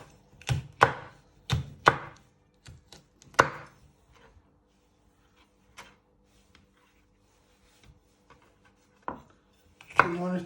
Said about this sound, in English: So you want to chop it into pieces.